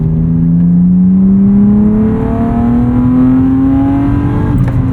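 A 1995 BMW 325i E36 engine revving steadily upward inside the cabin, pitch climbing smoothly over several seconds, muffled and continuous, then easing off near the end.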